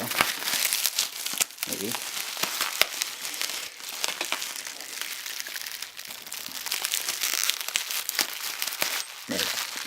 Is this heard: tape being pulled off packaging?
yes